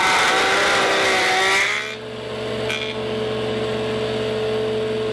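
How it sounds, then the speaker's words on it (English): An old $5 jointer, its blade cutting only on the front of the board, gives a loud, harsh whining cut for under two seconds, then settles into a steady motor hum with a faint tonal whine. "You can hear that the blade is cutting on the front of the board"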